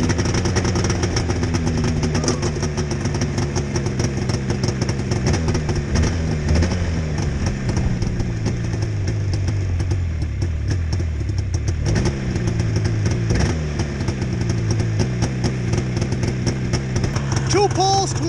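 Suzuki RM125 two-stroke dirt bike engine running on choke in cold 20-degree weather, a loud, steady buzzing drone with uneven revving throughout.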